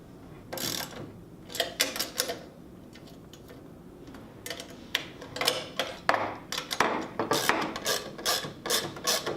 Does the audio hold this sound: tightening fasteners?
yes